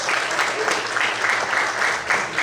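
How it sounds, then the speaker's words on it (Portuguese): A church congregation claps for the Lord in a dense, steady burst of applause that holds at an even level from start to finish, with no voices rising above it. "Você pode aplaudir o Senhor, você pode glorificar a Deus"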